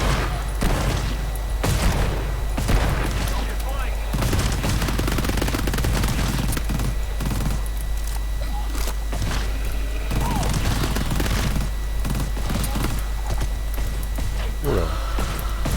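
Rapid gunfire and bursts in the co-op horror shooter GTFO, loud and dense over constant game noise, with players talking throughout.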